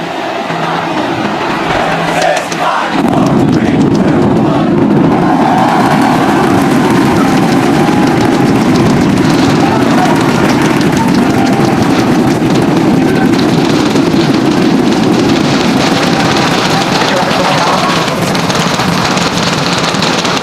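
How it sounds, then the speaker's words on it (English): SpaceX Starship Super Heavy rocket launching with 33 Raptor engines firing: after a few seconds of quiet, a sudden, massive, sustained roar and crackle takes over and stays loud and dense to the end. "We see 33 out of 33 Raptor engines lit on Super Heavy as it starts to ascend skyward."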